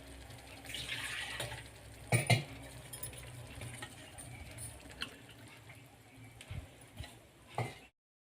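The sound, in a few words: water being poured into dal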